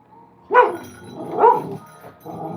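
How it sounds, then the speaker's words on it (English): A small dog barks in two or three sharp, nearby bursts with short gaps between them in a quiet indoor setting. "I don't know what you're barking at"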